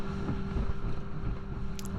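Steady rumbling dive boat engine and buffeting wind noise, with irregular thumps as the hull rides over choppy sea water off the Perhentian Islands, Malaysia.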